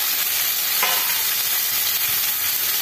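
Ridge gourd pieces going into a hot pan of oil tempered with nigella seeds: a continuous loud sizzle and hiss of frying, with a brief burst as the vegetables hit and some stirring.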